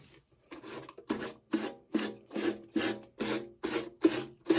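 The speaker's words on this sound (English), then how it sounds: "let's just sand it off." A Christmas tin planter is sanded by hand in about ten steady, evenly paced rasping strokes. The sound is close and scratchy, with no talking.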